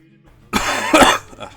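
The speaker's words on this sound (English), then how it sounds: "cough" A single harsh cough, close and loud, followed by a softer second burst, with no talking.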